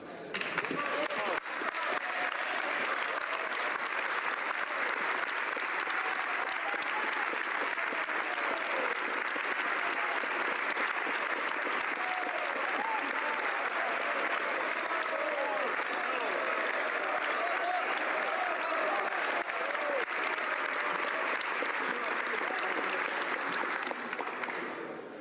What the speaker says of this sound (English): I very much appreciate the advance applause